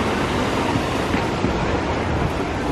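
Sea waves surge at Kobuleti beach on the Georgian coast, a continuous broadband roar of surf with wind buffeting the microphone, loud and steady with no voices.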